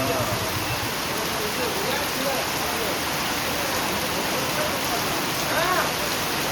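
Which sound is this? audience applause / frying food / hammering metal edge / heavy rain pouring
heavy rain pouring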